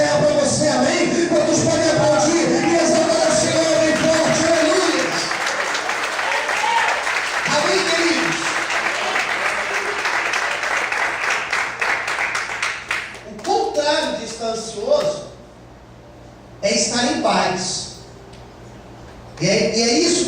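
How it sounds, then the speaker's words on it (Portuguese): Church congregation applauding loudly during a Portuguese-language sermon, with broad clapping and crowd noise sustained for about thirteen seconds, then breaking into scattered, fading claps and brief quiet gaps. "Quantos podem aplaudir e exaltar o Senhor em forte, aleluia."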